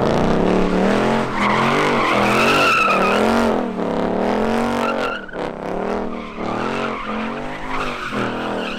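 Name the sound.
car spinning out and skidding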